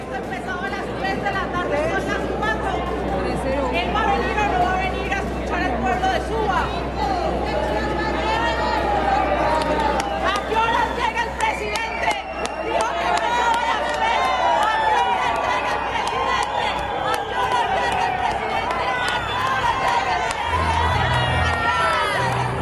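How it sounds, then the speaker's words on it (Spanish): A large outdoor crowd in Suba, Bogotá, jeers at President Petro with booing, whistles and shouting, a dense continuous roar that stays loud and close throughout, mixed with overlapping voices. "también lo chiflaron por segunda vez en el día aquí en Bogotá"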